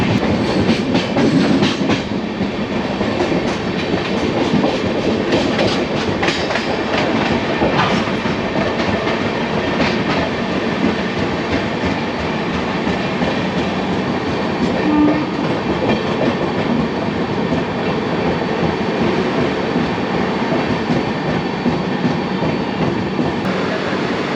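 The 22701 UDAY Express double-decker train runs on rails between Visakhapatnam and Vijayawada, giving a steady, loud rumble with clattering wheels and passing clunks that continue for the whole stretch, with no voices.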